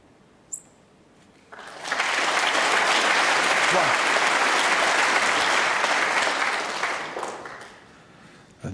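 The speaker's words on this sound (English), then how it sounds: "Generous round of applause for that single pot red" A snooker crowd at the 2015 UK Championship breaks into sustained applause for a single potted red, the clapping swelling quickly, holding steady for about five seconds, then fading away.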